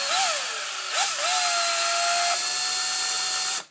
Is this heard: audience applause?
no